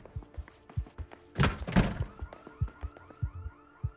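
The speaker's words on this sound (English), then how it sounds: "I need a car alarm or something to go off to lure them for me." A car alarm in a video game goes off with a sweeping, repeating electronic whoop behind a string of dull thumps and a loud burst of clattering impact noise.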